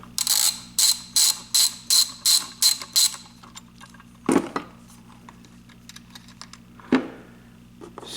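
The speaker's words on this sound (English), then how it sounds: "these nuts came off with 10 millimeter. Let's get both of those off." Ratchet wrench removing 10 mm nuts on a trailer swivel jack: eight quick, loud, evenly spaced bursts of ratchet clicking close by, followed by a few sharper metallic knocks and clanks as parts are handled.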